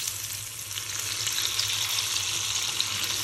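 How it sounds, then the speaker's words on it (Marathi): Stuffed bombil fish rolls fry in hot oil, a steady close crackling sizzle with fine bubbling continuing throughout, without talk. "व्यवस्थित असं क्रिस्पी तळून घ्यायचं."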